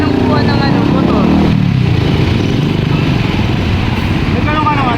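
A motorcycle is hauled away during an MMDA street clearing operation: a loud, close engine rumble with rattling clatter runs throughout, beneath people talking.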